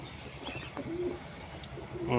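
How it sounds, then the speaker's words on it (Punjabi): A pair of pigeons coos softly with low, repeated calls, fairly faint beneath a steady background hiss, with no clear talk over them. "ਹੁਣ ਲੱਠੀ ਕਬੂਤਰੀ ਦਾ ਜੋੜਾ ਲੱਗ ਰਿਹਾ"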